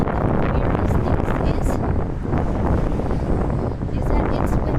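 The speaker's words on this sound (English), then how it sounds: "it's windy but it's not cold" Wind blows outdoors on a windy but mild day and buffets the microphone with a steady, rough, low roar. Faint rustling comes through the gusts.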